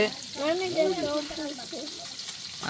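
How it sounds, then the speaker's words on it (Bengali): Fish sizzles in a hot frying pan, a continuous crackling hiss heard close while a voice talks over it throughout. "ওইদিকে মাছ ভাজি হচ্ছে"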